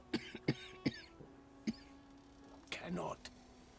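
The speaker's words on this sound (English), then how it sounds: "I don't like the sound of that cough" A character in the Divinity: Original Sin II video game coughs in a series of short, sharp bursts, then gives a longer rough cough near the end, heard close over a faint low hum.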